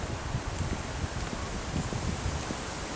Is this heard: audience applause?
no